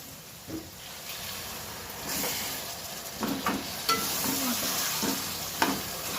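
Steady frying sizzle of green chicken curry in a pan with occasional stirring scrapes and clinks, moderately loud and continuous, no voices.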